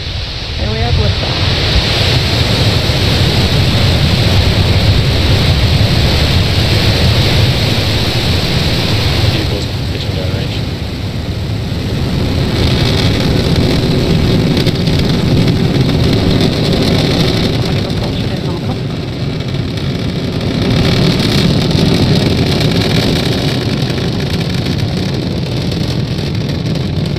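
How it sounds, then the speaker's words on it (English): Rocket liftoff in the Spaceflight Simulator game, a loud steady roar of engine exhaust rumbling continuously for nearly half a minute with slight swells and no talking. "Ignition. And we have liftoff."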